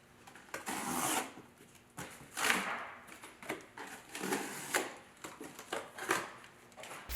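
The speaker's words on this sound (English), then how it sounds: "It's very important that you cut away the entire box now" A cardboard crate around an American Beauty woodturning lathe being cut away, giving repeated scraping, ripping and rubbing bursts at close range in an uneven rhythm, fairly quiet overall.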